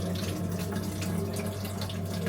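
Soaked rice being washed in water, a steady, close rush of running and sloshing water that fills the whole moment without pause, with no voices.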